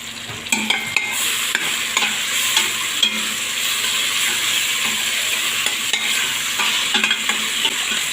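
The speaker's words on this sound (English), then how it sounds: "So next I add my green beans and green pepper." Green beans and green pepper sizzle in a hot pan for coconut rice while a utensil stirs them, steady frying crackle with repeated scraping strokes against the pan, close and alone.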